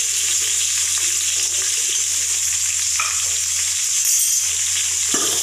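Chopped onions sizzle in hot oil in a pan with ginger, garlic, Byadagi chillies and curry leaves for Mangalore-style southekayi sambar, a steady bright frying hiss with occasional stirring scrapes, close and continuous with no talk.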